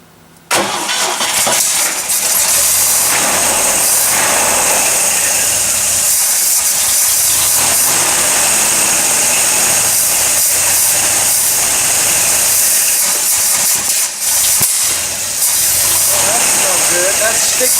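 An engine with sticky valves, just primed with a squirt of fuel, catches abruptly and then runs loud and close with a rough, hissing clatter that holds steady for over fifteen seconds.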